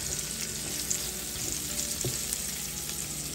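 Garlic frying in a pan while cooking a spicy Filipino blue crab dish, giving a steady, close sizzle with a faint stirring scrape near the middle.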